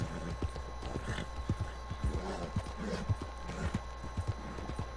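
Horse hooves thud in a quick, steady clip-clop rhythm as a tired horse is ridden in the video game Red Dead Redemption 2, close and clear over a low background.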